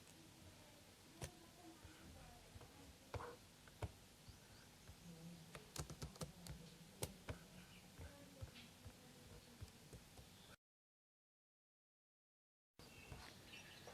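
Computer keyboard typing while entering text in Microsoft Word 2010, steady soft clicks with some sharper keystrokes, close and fairly quiet over a low background hum, broken by a short silent gap near the end.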